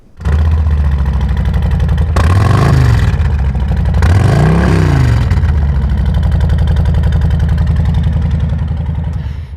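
A Harley-Davidson motorcycle engine idles with a deep, loud throb at a dealership, then revs up twice in rising and falling surges before settling back to idle.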